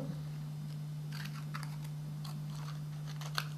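Scissors snip through material for a mosaic project, making a series of small, crisp, irregular clicks, faint and close over a steady low hum.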